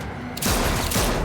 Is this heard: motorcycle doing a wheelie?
no